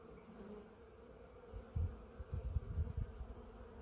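Honey bees buzz in an open hive during an oxalic acid drip treatment against Varroa mites, a soft steady hum that swells into louder close bursts of buzzing toward the end.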